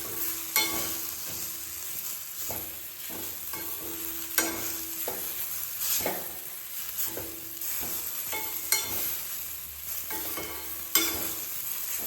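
Fried okra stirred into masala in a pan, a low continuous sizzle under repeated sharp spatula knocks and scrapes against the pan, fairly regular over about twelve seconds, with no one talking.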